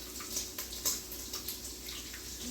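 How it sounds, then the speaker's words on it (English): Starchy pasta water trickles into a smoked gouda carbonara in small splashing pours with brief pauses between them, close and fairly quiet, with no speech. "A little water at a time, a little of the pasta water, because you don't want it scrambled."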